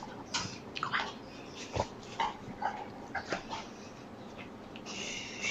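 A large dog moves about a room, with soft whimpers, yips and scuffling bumps scattered through, fairly close and moderately quiet, with no talking over it.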